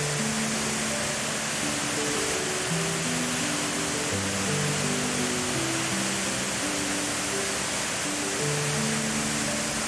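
Valara Falls in Munnar, a waterfall dropping about 1000 feet in tiers, roars as a steady, dense rush of water heard from a distance, unbroken and alone.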